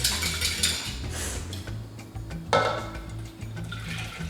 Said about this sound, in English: So just whisk up our eggs.